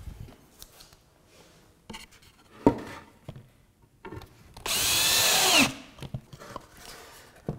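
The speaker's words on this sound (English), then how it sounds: "now I'm just putting a couple of screws through it" Power drill driving a couple of screws through a plywood desk divider, a short loud whirring burst near the middle among scattered quieter handling knocks and scrapes, close by with no talk.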